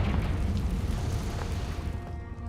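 A Confringo blasting spell erupts in the Hogwarts Legacy video game, a deep booming explosion that rumbles heavily at the start and slowly decays over a couple of seconds.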